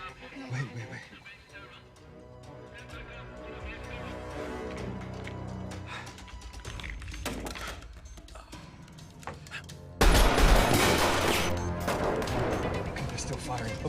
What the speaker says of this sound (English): Okay, they're still firing.